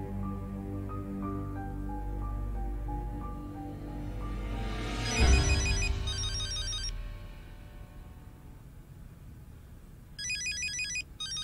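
A mobile phone ringtone plays in an Indian television drama, a repeating electronic melody over a low background score, then chirping ring tones near the end.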